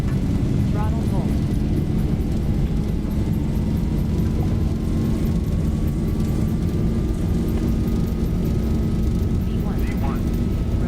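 Boeing 737 jet engines roar at takeoff thrust in a flight simulator game, a loud sustained broadband rumble with a slowly rising whine and faint clicks, continuous throughout with no talking.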